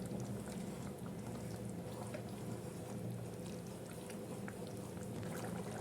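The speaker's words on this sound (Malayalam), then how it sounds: "നല്ലോണം തിളച്ച് വന്നിട്ടുണ്ട്" Chicken curry bubbling at a full boil in a pot, a steady, dense gurgling and popping that runs evenly throughout at moderate level with no talk.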